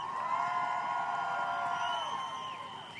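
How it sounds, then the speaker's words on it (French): A carnival crowd cheers and whoops for departing contestants, a steady wash of voices and shouts holding at moderate distance for the whole stretch, with no distinct claps standing out. "On les remercie, on les applaudit une dernière fois."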